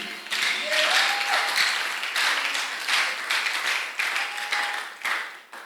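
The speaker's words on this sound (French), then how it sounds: "si vous voulez applaudir le Seigneur, sentez-vous libre sur l'action de l'Esprit Saint" Congregation applauding during a church service, irregular waves of clapping with a few brief whoops or voices mixed in, rising and falling in intensity.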